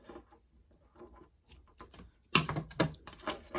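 Scissors snip through tulle fabric for a DIY wedding veil, several soft close-up crisp cuts that grow louder and denser toward the end, with no speech.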